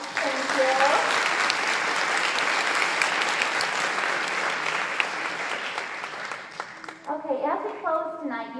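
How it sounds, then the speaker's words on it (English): Loud, sustained applause from a large audience at a student orientation fills most of the clip, fading toward the end as a few voices and a brief whistle-like tone emerge. "let's first of all give our student leaders a round of applause"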